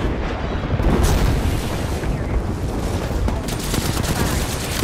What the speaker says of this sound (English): Heads up, we've got an airstrike coming in.